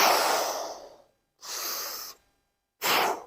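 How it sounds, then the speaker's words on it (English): A diving instructor demonstrates improper breathing with three forceful, exaggerated breaths, each a harsh, airy rush close to the microphone, separated by brief silent pauses. "that's not proper breathing"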